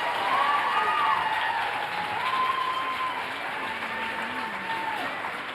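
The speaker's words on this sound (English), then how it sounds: "So give them another big round of applause." Crowd applause after a Fairview High School spring band concert performance, a steady wash of clapping from a large audience with a melodic whistle-like tone wavering over it throughout.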